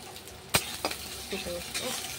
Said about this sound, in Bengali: তেলে একটা শুকনো লঙ্কা দিয়ে দিচ্ছি।